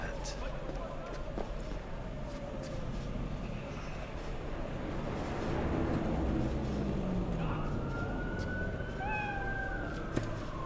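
A cat meows in a Cyberpunk 2077 street scene under a busy city bed of traffic and a passing siren, with a person talking over it.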